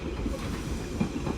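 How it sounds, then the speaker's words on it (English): A London Underground tube train pulls into Ealing Broadway station, its steady rumble and wheel clatter on the rails sounding close and continuous, with a faint hiss over the top and no talk. "coming in now will be a tube train"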